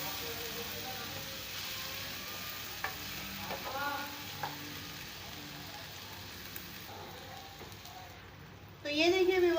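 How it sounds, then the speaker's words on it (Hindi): Finely chopped tomatoes sizzle gently in a pan while being stirred, a steady soft frying hiss with occasional scrapes, under a voice talking. "टमाटरों को हमने अच्छे से मिक्स कर दिया है"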